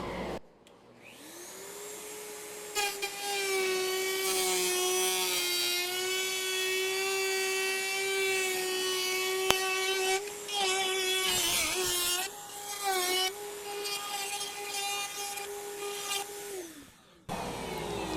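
Router with a flush trim bit trimming resin from the edge of a wooden serving board, a loud steady high whine close by, dipping briefly as the bit loads up mid-cut, then spinning down at the end.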